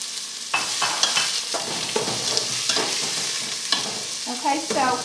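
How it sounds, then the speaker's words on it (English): Onions brown in hot olive oil in a pan, a steady sizzle with bursts of stirring and scraping, fairly close and moderately loud, with no talking. "Okay, so we're going to brown the onions."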